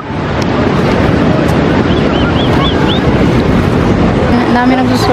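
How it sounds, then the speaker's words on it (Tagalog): Strong ocean waves crash and roar continuously at San Juan beach in La Union, loud and close, with heavy wind buffeting the microphone and faint chirps over the surf. "Lakas kasi ng alon kaya dami nagsusurfing. Malalaki yung alon."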